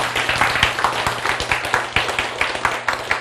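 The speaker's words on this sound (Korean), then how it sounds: "네, 박수." Audience applause at a Korean lecture: steady, dense clapping throughout, with a loose rhythmic pulse, moderately loud and fairly close.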